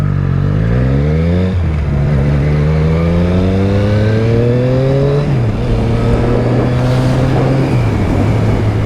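A Triumph motorcycle pulls away and accelerates on a damp road, its engine loud and close, revving up through several gears with rising pitch between shifts.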